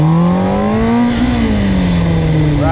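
A motorcycle engine revs loudly and steadily while the bike is held up on its back wheel in a wheelie, the pitch swelling and easing as the throttle is rolled, close and continuous for the whole stretch.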